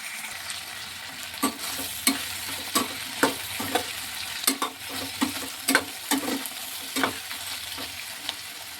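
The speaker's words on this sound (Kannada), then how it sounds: "ತುಂಬ ಕಹಿನ ಬೇಡ ಅನ್ನೋರು ಹಾಗಲಕಾಯಿನ ಚೆನ್ನಾಗಿ ಎಣ್ಣೆಯಲ್ಲೇ ಬೇಯಿಸಬೇಕು" Bitter gourd fries in oil with a soft continuous sizzle, broken by a series of sharp scraping clinks as a spatula stirs the pan, up close and fairly quiet.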